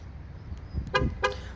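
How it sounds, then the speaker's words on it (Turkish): Two short horn toots sound close by from a 2017 Ford C-Max Titanium X, one after the other, over a low idling rumble. "Korna selamlamamız var araba aracımızda arkadaşlar."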